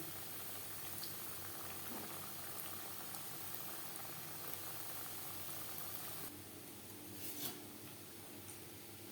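Goja pastries deep-fry in hot oil, a steady, fairly faint bubbling hiss that runs throughout with a slight shift partway through.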